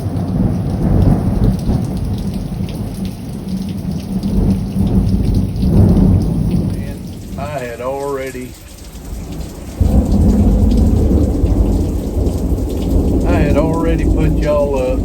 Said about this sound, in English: Still got plenty of lightning and thunder.